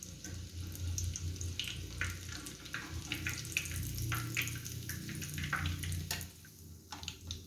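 Chicken and potato cutlets fry in a pan with a steady close sizzle and hiss, broken by small crackles and pops, continuous throughout.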